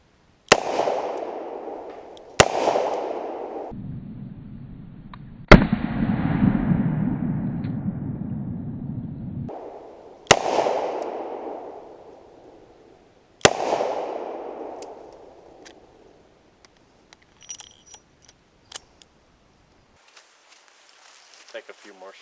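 Gunshots fired at a concrete block during ballistic testing with calibers from 9mm to .50 cal, five sharp loud reports spaced a few seconds apart, each with a rumbling decaying tail, followed by faint clicks and rustling.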